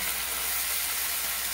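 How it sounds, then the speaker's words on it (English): Steady, bright hiss of wild sockeye salmon sizzling in a hot pan, continuous and close with no talking. "Then place your salmon in. Hear that sizzle?"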